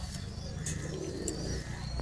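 Andra (Indian fantail) pigeons coo softly in low, repeated murmurs beneath a steady background hum, with a few brief chirps.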